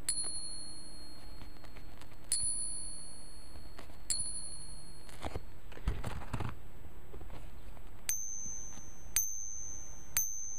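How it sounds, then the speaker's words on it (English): Fake silver coin dropped onto a hard surface, giving several short, thin metallic rings that die away quickly, with a brief rattle of small impacts partway through. "it's much thinner, weaker sound. This is our fake coin."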